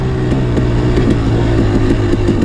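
A dirt bike fitted with a Rekluse Radius X clutch revs loudly and close by. The engine note pulses in a steady rhythm throughout.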